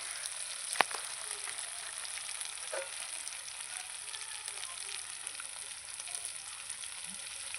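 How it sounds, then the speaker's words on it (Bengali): Spice paste frying with a spoonful of yogurt in a pan for an egg curry, a steady soft sizzle with faint stirring scrapes and one sharp clink early on, no talking. "মশলাটা একটু দই দিয়ে আমি কিছুক্ষণ কষিয়ে নিয়েছি"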